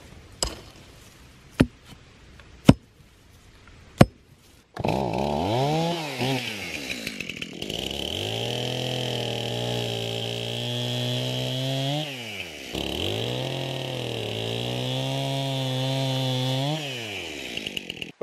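A chainsaw cuts into an old, rotten tree stump, the engine revving loud and steady in two long bursts, with a short dip between them, after a few sharp knocks at the start.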